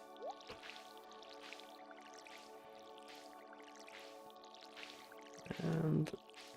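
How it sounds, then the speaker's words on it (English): A furnace in Stardew Valley finishes smelting metal with a short, soft bubbling squish near the end, faint and brief, over quiet looping farm music with light ticking game sounds. "that's the sound of the metal being done, I believe"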